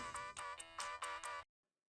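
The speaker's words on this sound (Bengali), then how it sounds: "ফোন এসেছে" A phone rings with a repeating electronic ringtone, several short bright pulses in a clear rhythm for about a second and a half before it cuts off to silence, heard alone and close.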